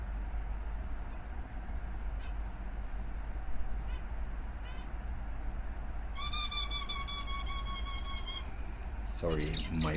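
A pet bird indoors gives a burst of rapid, bright chirps, then a sharp call at the end, with fainter squeaks earlier over a steady low hum.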